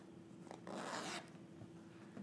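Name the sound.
zipper being opened on jeans fly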